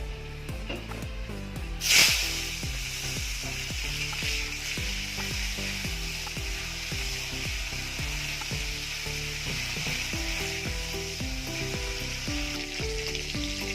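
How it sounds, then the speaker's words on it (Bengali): Tomato hits hot oil spiced with whole cumin, dry chili, bay leaf and garam masala, giving a sharp loud hiss near the start, then a sustained close sizzle with regular stirring strokes. "ফোড়নটা ভাজা হয়ে গেছে, এবার আমি টমেটোটা দিয়ে দেবো।"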